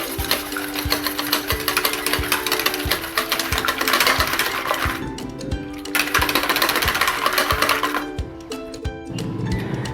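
Eggs whisked in a bowl for onion rings, a rapid steady clicking of whisk against bowl running nearly continuously with two brief pauses, close and fairly loud.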